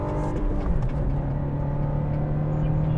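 A Subaru Crosstrek with a six-speed manual gearbox accelerates hard through a gear change. The engine drones loud and close, and its pitch steps and then climbs steadily after the shift.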